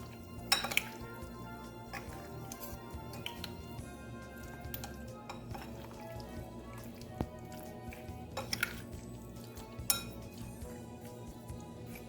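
Chicken pieces are mixed by hand with black pepper and salt in a bowl, giving soft squishes, a few sharp clinks of a spoon or dish and faint drips, quiet and close with no talking.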